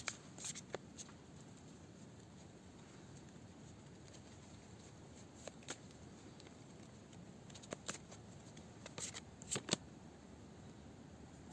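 Animal oracle cards are shuffled by hand before a single card is drawn, soft flicking riffles and taps that come faint and intermittent against a quiet room.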